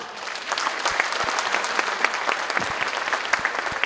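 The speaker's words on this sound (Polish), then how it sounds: "Tak więc wielkie brawa!" A concert audience applauds at a Polish dance ensembles showcase, sustained clapping with distinct sharp individual claps standing out from the dense crowd wash, steady and fairly loud for the whole stretch.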